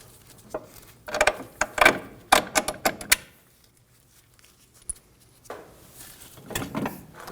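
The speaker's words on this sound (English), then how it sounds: "16mm. We'll remove the bolts holding the strut in." A ratchet works on 16mm strut bolts on a Subaru Crosstrek front knuckle, with bursts of quick metallic clicks in two separate runs split by a quiet pause and a single sharp tap, close up.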